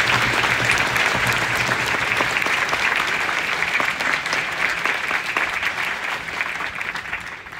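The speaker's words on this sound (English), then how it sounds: "I ask that all of you join me in a round of applause for the distinguished soldiers in the band." Sustained audience applause for soldiers in the band at a US Army Basic Combat Training graduation ceremony at Fort Jackson, a thick, continuous wash of many hands clapping, loud and steady before easing slightly near the end.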